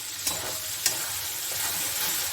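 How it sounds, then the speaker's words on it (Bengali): A curd and paneer paste gently frying on low heat for a capsicum curry, a soft, steady sizzle broken by two brief clicks of a spoon stirring. "পেস্টগুলো একটু ভেজে নিচ্ছি"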